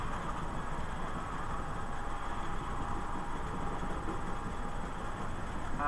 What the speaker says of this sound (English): Can you hear the trains in the background?